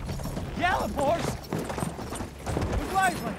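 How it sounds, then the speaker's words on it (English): A horse gallops in the video game Battlefield 1, its quick rhythmic hoofbeats mixed with battle noise, with a voice speaking over parts of it. "Gallop, horse!"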